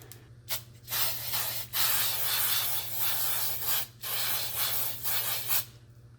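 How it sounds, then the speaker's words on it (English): An aerosol spray paint can sprays in several sustained bursts onto a stencil over paper, a loud close hiss with short pauses between bursts and a steady low hum underneath. "so I'm just going to lightly spray that all over"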